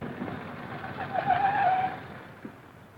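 A big car speeds away in a getaway chase, its tires squealing in a sharp skid that rises and fades over a rushing engine, with no voices.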